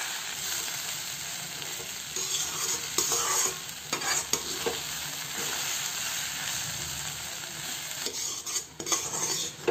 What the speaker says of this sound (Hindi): ये हमें 3 से 4 मिनट हो गए हैं इस सब्जी को भूनते हुए